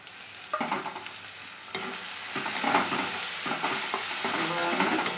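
Masala with turmeric, chili powder and tomato paste sizzles in a pan while a spoon stirs and scrapes it in close, uneven bursts.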